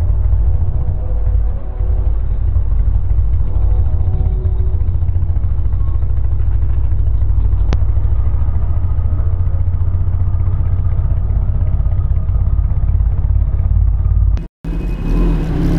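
A Kawasaki ZX-10R sport bike idles in stuck city traffic, holding a steady, close, low rumble throughout before a brief dropout near the end, with no one talking.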